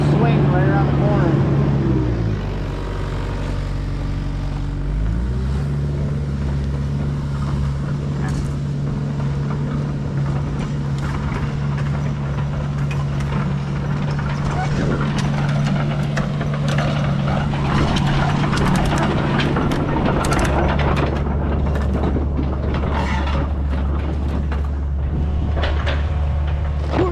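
Telehandler engine revving hard as the machine drives around a corner, a loud, low drone that surges and shifts in pitch, with voices talking over it.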